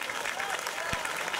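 An audience at a stage event claps, steady, fairly loud applause filling the short moment, with voices mingled in the crowd.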